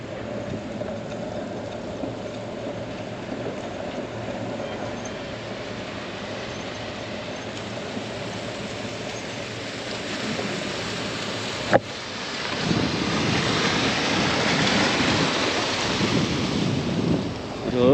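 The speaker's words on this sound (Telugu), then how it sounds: "ఇక్కడ నీళ్ళు ఎక్కువగా పారుతున్నాయి." Heavy water pours across a mountain road in the rain, a continuous broad roar that swells louder in the second half after a sharp knock.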